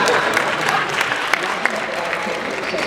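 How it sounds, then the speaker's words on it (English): Audience at a Houston mayoral runoff debate breaks into steady, dense applause, a continuous wash of clapping with a few sharper claps standing out, heard from within the room. "that deserves an applause."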